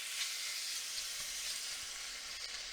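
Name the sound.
marinated shrimp sizzling in olive oil in a hot pan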